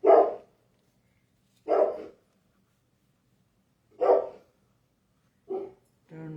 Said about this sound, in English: Don't know why my dog is barking